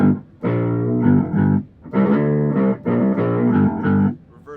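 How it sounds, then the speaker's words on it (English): Heavily distorted electric guitar chords through an Electro-Harmonix distortion effect pedal, strummed in several sustained bursts with short gaps between them, buzzy and loud. "You can add some distortion."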